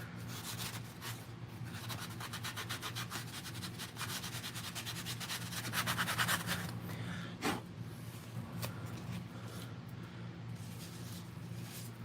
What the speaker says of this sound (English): Let me grab my sanding block